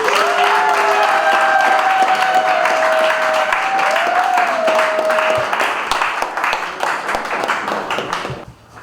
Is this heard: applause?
yes